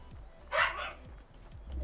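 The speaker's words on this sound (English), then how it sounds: "He's barking, what do you think?" A dog gives a single short bark in a Fortnite match, a brief mid-level yelp over low rhythmic background thumps.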